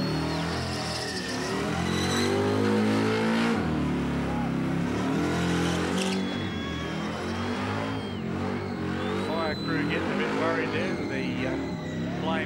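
A car engine revs hard and roars continuously during a burnout elimination at the Summernats 18 car festival, with loud, rising and falling engine drones and crowd noise, while an announcer talks over it.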